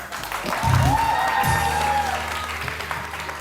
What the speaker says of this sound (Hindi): बहुत सारी तालियां सलमा आसिम के लिए